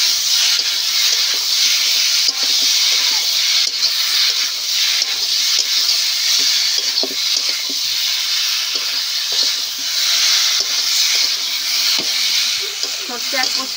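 Mustard and poppy seed paste frying with ridge gourd and potato in a pan gives a steady, bright sizzle throughout, with occasional stirring scrapes and a voice talking faintly beneath.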